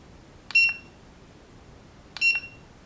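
A small two-cell balance charge tester for a Syma X8HG drone battery gives two short, bright electronic beeps about a second and a half apart, each a quick double chirp, clear against a quiet background.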